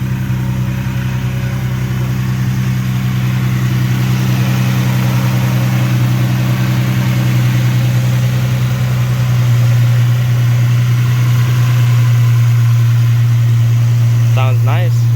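An Infiniti G37 sedan fitted with Z1 Motorsports intakes idles close by, a steady low engine drone with a deep hum that grows slightly louder partway through and holds for about fifteen seconds.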